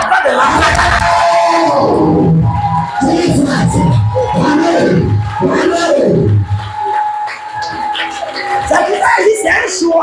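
A church congregation loudly acclaims God, many voices shouting and cheering together in a dense, continuous roar that rises and falls throughout.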